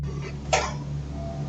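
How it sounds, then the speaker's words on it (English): A single short cough, close and moderately loud, heard once against a quiet, steady background hum in a museum setting. "First, JT hears a cough from somewhere nearby."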